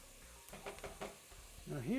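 Carrots sizzle softly in a pot as a spoon stirs them with a few quick scrapes, followed by a brief tonal squeak or voice at the end.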